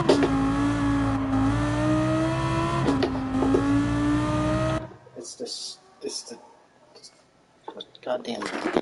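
A Lamborghini engine revs in Gran Turismo 7, a sustained rising and falling tone that runs loud for about five seconds and then cuts away, leaving quieter scattered noises and faint talk.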